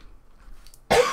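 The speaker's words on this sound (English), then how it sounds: "I'm sorry about the coughing." A single short cough bursts out near the end after a quiet moment.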